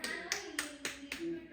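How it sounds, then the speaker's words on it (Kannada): Five sharp hand claps in an even rhythm, fairly close, with faint talk beneath them. "ಹೊಡಿ ಚಪ್ಪಾಳೆ ನನ್ನ ಬದಲು ನೀನು"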